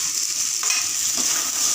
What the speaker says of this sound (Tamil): இப்போ இது எல்லாமே பச்சை வாசனை போகிற அளவுக்கு நம்ம நல்லா வதக்கிக்கணும்